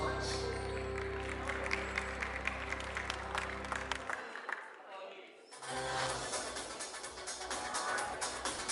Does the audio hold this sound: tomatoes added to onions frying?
no